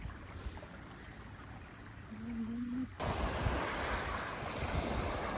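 Waves wash onto a Red Sea beach at a seaside resort, a soft low surf under wind that jumps to a louder, rougher rush of water and wind buffeting partway through.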